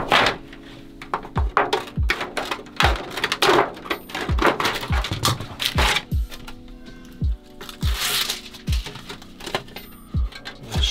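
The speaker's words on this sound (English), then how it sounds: "Now use the scissors." Scissors cut through Dodo Mat Flex Plat sound-deadening mat while a camper is prepared for carpet lining, producing a close series of sharp crunching snips and crackles repeating at a steady, uneven rhythm.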